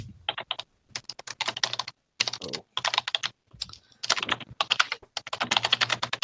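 Computer keyboard typing comes through as close, rapid clattering keystrokes in bursts separated by short pauses, loud and alone with no talk.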